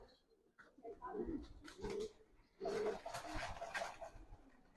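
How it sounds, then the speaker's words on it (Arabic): Soft, low cooing of domestic pigeons close by, mixed with rustling bursts that sound like wings shuffling or flapping. "شايف الحمام اهو."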